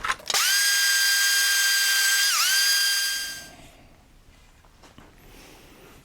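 A belt sander with a finer belt shapes deer antler tips for a thumbstick, giving a loud, steady high whine for about three seconds that dips briefly in pitch under load, then winds down to quiet.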